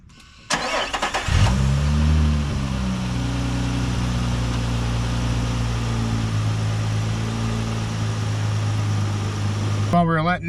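A 2024 Nissan Frontier Pro-4X engine cranks briefly, catches and settles into a steady, close idle as it warms up, running continuously to the end with some faint talk near the close.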